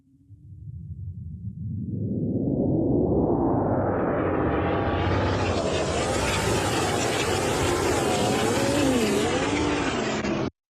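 A car engine roars continuously, starting as a muffled low rumble, as if heard from inside the car, then opening up into a full, bright, sustained drone that cuts off abruptly at the end.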